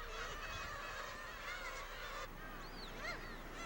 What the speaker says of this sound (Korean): 어미들의 보살핌으로 갈매기 새끼들은 무럭무럭 자란다.